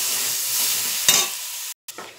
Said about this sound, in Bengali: ওদিকে বেগুন দিয়ে সজনে ফুলটা ভাজা হচ্ছে